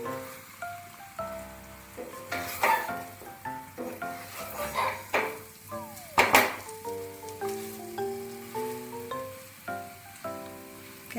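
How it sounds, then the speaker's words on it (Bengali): Chicken and capsicum stirred in a frying pan for a Kasturi methi chicken, with a steady sizzle under repeated scraping and clinking strokes of a spoon against the pan, close and moderately loud throughout. "ক্যাপসিকামটা দিয়েও বেশ কিছুক্ষণ নেড়ে চেড়ে নেব।"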